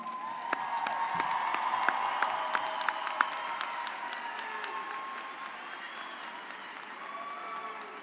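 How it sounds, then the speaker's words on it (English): A commencement audience at a fall 2023 university graduation applauds the faculty and staff with sustained clapping and a few whoops and cheers, steady and broad for about eight seconds before slowly thinning. "Please give them all a round of applause"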